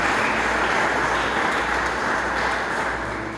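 A church congregation applauding during a worship service, a dense, steady wash of clapping from many hands that holds throughout and eases slightly at the end.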